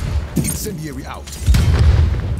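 An incendiary grenade goes off in Call of Duty: Black Ops Cold War, a burst and a crackling, roaring burn that swells midway, with a voice talking over the start.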